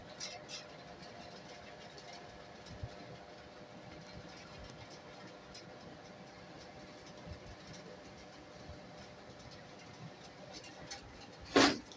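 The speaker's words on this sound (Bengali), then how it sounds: "আমাদের ফ্যানটা একটু স্পিড হলে শব্দ করে" The cooling fan inside a GKE 129 model IPS inverter runs at speed with a faint, steady mechanical whir and hum, ending in a brief sharp click near the end.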